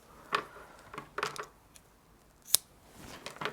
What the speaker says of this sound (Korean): 이 뒤쪽에 이 남은 부분은 두꺼워지니까 이렇게 다 잘라내 주시면 되거든요